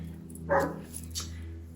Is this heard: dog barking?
yes